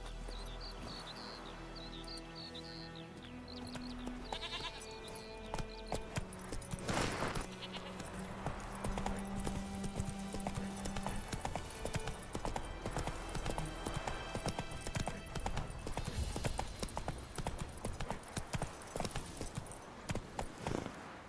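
Hooves of a horse in The Witcher 3 video game clip-clop in a steady rhythm for most of the stretch, close and clear, beneath game music and ambient night sounds, with a brief whinny-like call.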